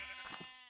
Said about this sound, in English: cows are here, sheep are here